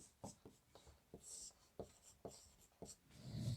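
Letters are written on a board during a Sanskrit lesson, heard as a series of quiet, irregular taps and scratches with pauses between strokes, while a teacher talks softly.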